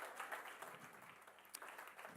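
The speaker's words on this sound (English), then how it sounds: "And a round of applause." An awards ceremony audience applauds, a fairly faint and steady spread of clapping from a crowd.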